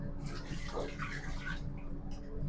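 Water runs steadily into a large pot for a five-kilo batch of chicken biryani rice in a shop kitchen in London, a continuous rushing and splashing stream over kitchen background noise.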